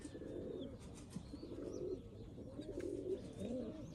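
Young pigeons, including a smoky-coloured squab, cooing softly and repeatedly in a loft, low throaty coos overlapping at a steady pace with faint chirps in the background.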